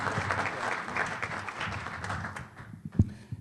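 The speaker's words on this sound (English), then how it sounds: "Please give him a round of applause" Applause from a conference audience at a plenary session, a dense steady wash of many hands clapping that carries on for several seconds before thinning out, with one louder thump near the end.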